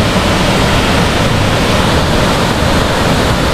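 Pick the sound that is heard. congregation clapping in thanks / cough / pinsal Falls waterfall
pinsal Falls waterfall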